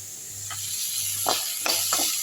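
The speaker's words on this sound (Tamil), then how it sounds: "அப்புறம் நல்லா வதக்கி விட்டுடலாம் இது லேஸாக வதக்கும்" Coriander and onions sauté in a pan for Chettinad kuzhi paniyaram, a soft steady sizzle with a few brief stirring scrapes near the end.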